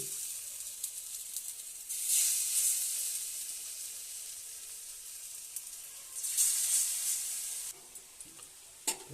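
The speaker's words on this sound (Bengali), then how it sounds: "দেখো বন্ধুরা এগুলো ভাজা হচ্ছে" Steady sizzling of fritters frying in oil, with two louder bursts of crackle and hiss partway through, close and alone without any talking.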